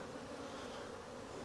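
A mass of nurse bees on a cell builder hive frame drones in an even, unbroken buzz, close up and constant throughout.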